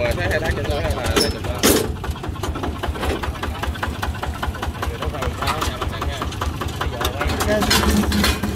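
Kubota tractor engine running during a test in a rice field in Sóc Trăng, a steady mid-pitched diesel chug with rhythmic knocking, close and continuous, with people talking over it.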